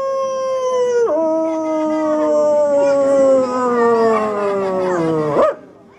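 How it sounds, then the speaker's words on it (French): A trained performing dog at a market show howls in long sliding tones, pitch drifting downward then rising sharply at the end, loud and close with no talk. "permettez-moi de vous présenter Oscar, chien savant."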